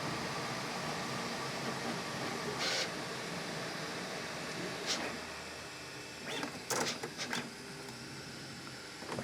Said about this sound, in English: That's cutting the filament.